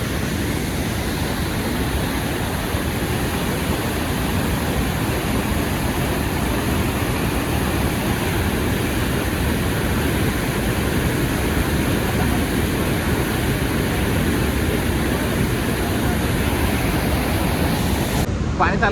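The flooded Bhima river rushes in a constant, loud roar of churning water that holds unbroken throughout.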